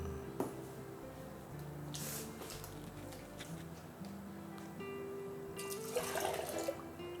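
About 1.5 to 2 liters of water pours into a cooking pot with coconut milk for a jengkol sambal dish, a soft continuous trickle and splash, quiet and fairly distant.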